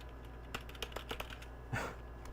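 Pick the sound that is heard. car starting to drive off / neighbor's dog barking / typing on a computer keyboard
typing on a computer keyboard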